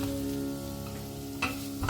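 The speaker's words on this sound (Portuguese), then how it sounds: "a carne seca e refogamos levemente" Dried beef, carne seca, sautés in a pan with a steady, soft sizzle and crackle, fairly quiet and close, with a couple of brief utensil scrapes or stirs near the end.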